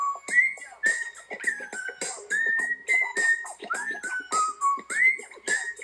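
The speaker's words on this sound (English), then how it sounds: "He's actually whistling right now." A person whistles a melodic tune alone, in short phrases of rising and falling notes with brief pauses between them, fairly close and clear, with no talk over it.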